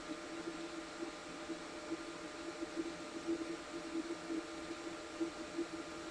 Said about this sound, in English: what you're hearing is the fans on the printer